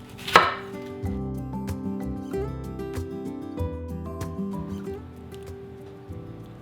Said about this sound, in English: you're just going to cut 1-inch steaks